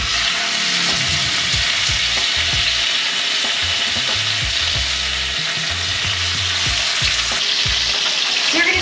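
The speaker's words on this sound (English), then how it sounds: "You're gonna get a really good sizzle on these chicken thighs." Seasoned chicken thighs sizzle loudly skin-side down in hot oil, a constant dense crackle and spatter with occasional soft scraping in the pan.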